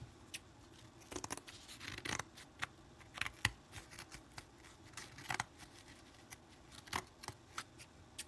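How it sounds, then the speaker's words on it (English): Scissors snip through burlap canvas in a craft project, a series of quiet crisp cuts in uneven bursts, close and isolated with no talking. "go ahead and trim this off so it's not sticking up here"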